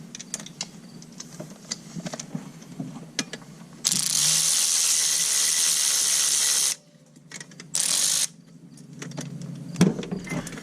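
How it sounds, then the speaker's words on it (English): A ratchet working a 10mm bolt on a 2008 Subaru Impreza engine during removal: close, quick bursts of metallic clicking with a longer loud rasping stretch in the middle, then more short clicks. "We'll take this 10mm bolt out."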